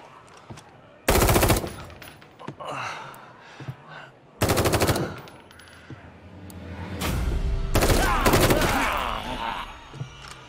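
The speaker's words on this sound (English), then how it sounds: "Keep shooting until they're dead or we run out of ammo." Automatic gunfire in The Evil Within 2 comes as three loud, sustained bursts of rapid shots, close and harsh, separated by quieter stretches of groans and game ambience.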